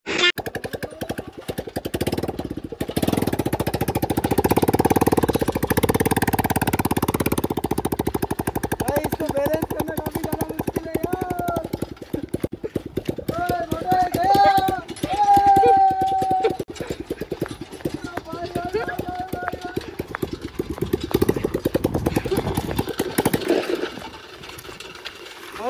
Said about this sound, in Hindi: अब करने वाले हम बाइक को सेकंड टाइम स्टार्ट।